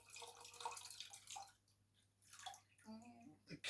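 Water is topped up in a small shrimp vase aquarium: quiet pouring and trickling with a few drips and gurgles, soft and close.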